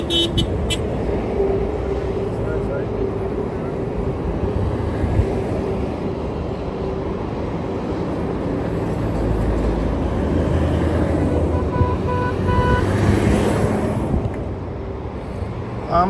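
Car and truck horns honk over continuous road traffic at a farmers' protest rally in Australia, with steady vehicle noise throughout and scattered toots rising above it.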